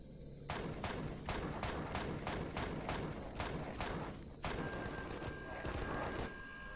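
Automated turrets firing in the space survival game Empyrion, a steady run of evenly spaced, punchy shots. A brief gap comes midway before the volley resumes at the same pace.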